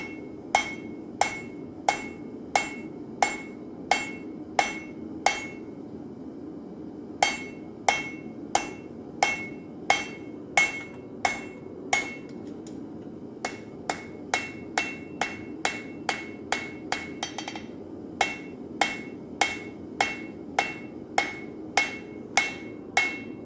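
A hammer strikes hot steel again and again while a metal movie prop handle is forged from a ten-inch bar, each sharp ringing blow landing in an even rhythm, briefly pausing, then turning into a quicker run of strikes.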